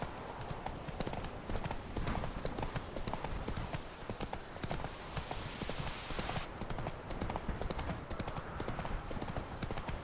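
Rapid, rhythmic hoofbeats of a horse galloping in The Witcher 3 video game, a continuous clip-clop that stays fairly even and moderately quiet throughout, with no talking over it.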